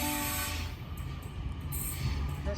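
NIF D set passenger train passing Penshurst station, a steady rumble of carriages rolling by with a brief horn-like tone at the start and faint squeals toward the end.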